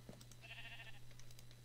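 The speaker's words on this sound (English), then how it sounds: "I want to name Guy the Sheep" A sheep bleats once in the Minecraft video game, a short wavering mid-pitched call heard clearly over a low steady background hum, with no talking.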